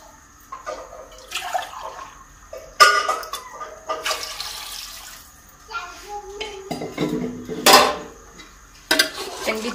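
Curry is stirred in a cooking pot with bursts of liquid sloshing and metal clinking against the pot, broken by pauses, while people talk in the background.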